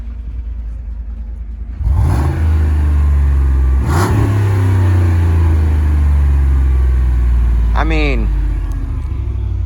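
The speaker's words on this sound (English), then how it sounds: "Rev it up again." A stock truck engine idles with a deep rumble, then revs in a few rising bursts, loud and close, with someone briefly speaking over it.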